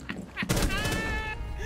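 A single sharp shotgun blast from Sledge in the video game Rainbow Six Siege, loud and close, followed by a ringing tail with a voice speaking over it.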